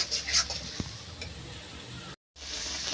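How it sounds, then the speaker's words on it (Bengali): Spice paste with chilli powder and tomato paste fries in a pan, a low sizzle with a few faint stirring scrapes and clicks, cut by a brief gap of silence near the end. "তো মশলাটা আমি এখন ভেজে নিই ভালো করে"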